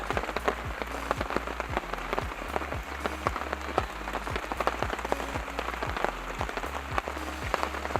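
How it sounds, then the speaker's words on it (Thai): Rain falls steadily on a mountain while people shelter from it, a dense continuous patter of drops striking surfaces nearby, even in loudness throughout and with no one speaking. "วันนี้ก็นั่งหลบฝนนะ"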